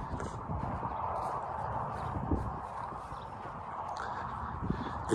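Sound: horses walking, hooves clip-clopping

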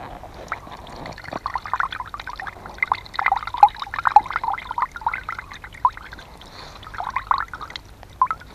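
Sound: water squeezed out of clothing, trickling

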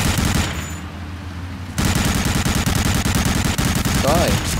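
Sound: gunfire in video game Medal of Honor Allied Assault

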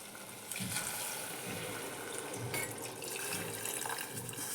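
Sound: water being poured into drumstick and lentil curry

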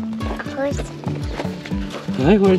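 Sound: horse hooves clip-clopping on a winter pony ride

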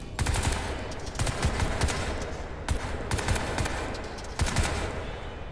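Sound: rapid automatic gunfire in the video game Crysis 3

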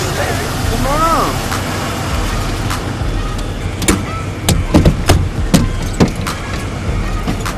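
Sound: truck engine running

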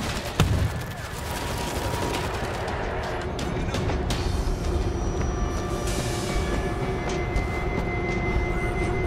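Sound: train moving backwards in video game World War Z

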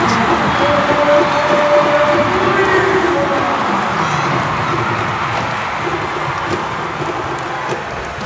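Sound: volleyball crowd cheering during a rally

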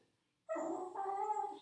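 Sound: dog whimpering and yipping

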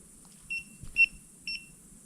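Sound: beep from a flashlight

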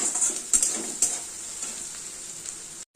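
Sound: onions frying and being stirred in a pan

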